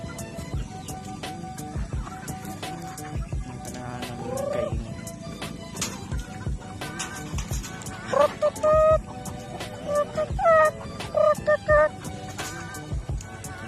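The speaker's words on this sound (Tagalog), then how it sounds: "I didn't expect chickens to eat this fast." Chickens on a farm eating feed, with busy clucking and squawks from several birds and sharp pecking and tapping noises, close and continuous throughout.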